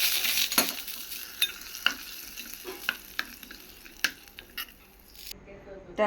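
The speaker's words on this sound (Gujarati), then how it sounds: "આપણે આ વઘારને આપણે ચટણીમાં રેડી દઈશું।" Hot oil tempered with mustard seeds and asafoetida poured into garlic chutney, a low sizzle with scattered sharp spoon clinks and stirring scrapes, close and moderate in volume, with no voices.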